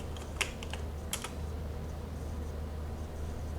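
Keys on a computer keyboard tapped in short bursts while a password is entered, light clicks over a steady low hum, fairly close and with no voices.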